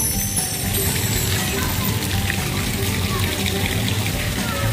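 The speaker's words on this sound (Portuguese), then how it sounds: "uma cachoeira, né, filha?" Steady rushing and splashing of a small decorative waterfall in an ecological park in Mongaguá, a continuous broadband wash of falling water that stays close and even, with no break.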